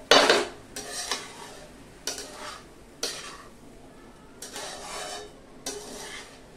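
Repeated scraping strokes of a spoon through tempered jeera rice in a pan, roughly once a second, close and dry with a faint sizzle.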